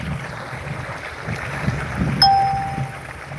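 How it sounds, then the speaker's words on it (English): A single bright two-tone notification chime rings out once over a steady background hum and room noise, ringing briefly before fading. "I just got the notification just now."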